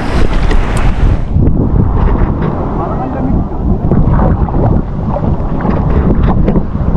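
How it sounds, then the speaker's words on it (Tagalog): A small boat at sea rides big ocean waves in strong wind, with heavy, constant wind buffeting and rushing water filling the sound, loud and close throughout. "Malaki pa lang alon dito."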